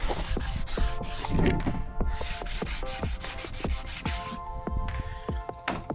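The body surface of a Holden Commodore HSV Clubsport R8 is scuffed by hand before a repair, a dense, close rubbing and scratching with quick strokes and sharp clicks throughout.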